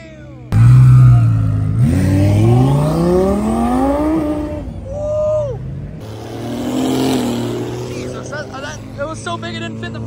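A car at the SEMA 2023 afterparty car meet revs hard while brake holding, its engine note climbing in repeated loud sweeps, then easing and rising again, with crowd voices and cheering around it.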